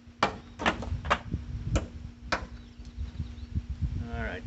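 Sharp knocks as ice cubes are struck off a frozen Cyelee T3 red dot sight outdoors, a series of about six hard, separate taps spaced irregularly, with a steady low hum underneath.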